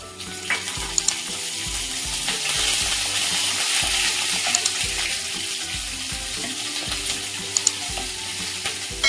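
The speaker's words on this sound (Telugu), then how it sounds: "మినప్పప్పు కొంచెం కలర్ వచ్చే వరకు ఫ్రై చేసుకుంటే చాలన్నమాట" Dry red chillies, cut green chillies and urad dal frying in hot oil, a close, constant crackling sizzle with faint clinks, under a low background hum.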